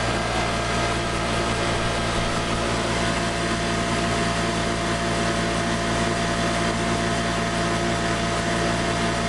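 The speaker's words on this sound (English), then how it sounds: "we have like 75 volts, and the motor's running." A modified asymmetric DC motor runs at about 75 volts and roughly 3,400 RPM, producing a loud, steady, unbroken electric whine and hum with no pauses.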